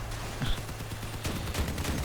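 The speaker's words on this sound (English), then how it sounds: "I actually heard the cannons firing." Cannons fire on a convoy truck build in the vehicle combat game Crossout, giving a few sharp booming shots over a steady low engine rumble, with one stronger blast near the middle.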